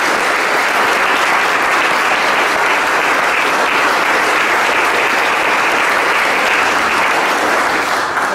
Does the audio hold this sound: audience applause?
yes